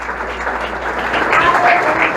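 Church congregation applauding through a worship service, a steady wash of clapping that swells slightly toward the end, with no speech over it.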